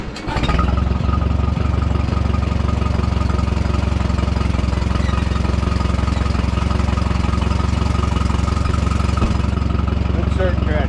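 An M602 tractor engine catches after a short crank and settles into a loud, steady chugging idle that runs on evenly close by.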